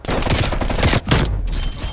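Rapid SMG fire in a Call of Duty Warzone match, loud continuous bursts with a brief break near the middle before shooting resumes.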